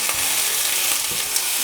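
Onion, garlic, dried chiles de árbol, a guajillo chile and quartered tomatoes fry in a splash of oil for chilaquiles rojos, a loud continuous sizzle with faint stirring.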